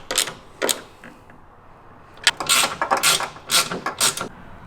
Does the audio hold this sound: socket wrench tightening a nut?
yes